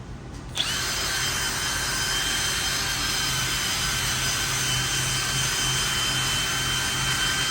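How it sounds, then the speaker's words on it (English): A wire wheel scrubs a dirty suspension control arm from a Ford Ranger, spinning up within the first second into a loud, continuous, steady grinding whine that holds unbroken and close to the end. "Just hit it with the wire wheel because it's really dirty."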